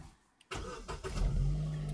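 A Vauxhall Tigra car engine catches after a quiet pause and settles into a steady running note with a rising low hum, close and fairly loud, with no voices over it.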